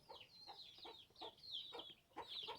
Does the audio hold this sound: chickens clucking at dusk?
yes